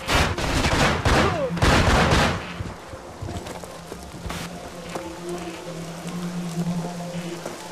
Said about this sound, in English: Shoot that cop killer